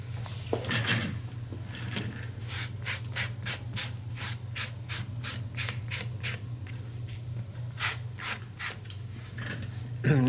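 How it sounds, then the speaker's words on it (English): The sole of an UGG Bailey boot is scuffed by hand before gluing, with a run of quick, evenly spaced rasping strokes close up, a short pause, then a few more strokes. "Scuff this up."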